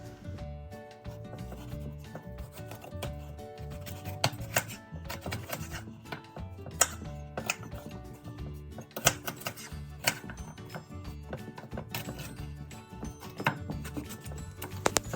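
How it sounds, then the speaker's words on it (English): Potatoes cut into wedges with a knife on a board, giving rapid close chopping knocks and scraping, busy and continuous throughout with no voices. "we're going to chop our potatoes up now"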